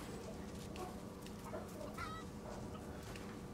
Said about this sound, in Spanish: ¿Ese ruido? Ah, gallinas.